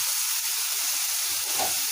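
Chopped tomato and vegetables fry in butter for pav bhaji, making a soft, even sizzle with a short bubbling swell near the end.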